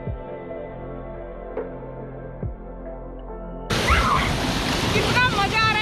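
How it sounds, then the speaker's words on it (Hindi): Children bathe in cold water outdoors. After a steady droning stretch, loud broadband splashing and churning water suddenly takes over nearby, with voices mixed in. "कितना मजा आ रहा है इन बच्चों को ठंडे ठंडे पानी में नहाने"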